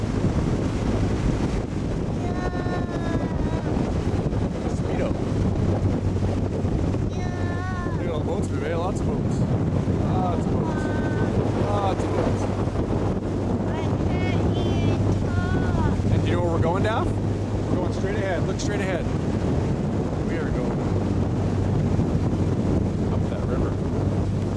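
A boat travels along the English River with constant engine rumble and heavy wind buffeting the microphone, while people talk throughout.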